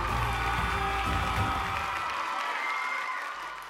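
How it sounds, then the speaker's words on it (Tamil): Audience applause and cheering at a live stage event, a dense crowd roar of clapping and whoops that holds steady and then fades toward the end. "கண்டிப்பா இந்த நேரத்தில் உங்க ஃபேமிலிக்கு ஒரு கைத்தட்டல் கொடுக்கணும்."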